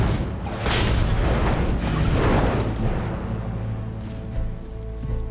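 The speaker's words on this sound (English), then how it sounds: "The 88 quickly destroys 3 Sherman tanks." A German 88 gun fires on Sherman tanks in a loud, sustained wartime barrage, with a heavy boom and roaring explosions that rumble and fade into a lingering low rumble.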